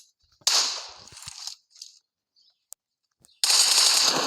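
Gunfire in a shooting video game comes in two loud, crackling bursts separated by near silence and a few isolated sharp pops, close and with no talking.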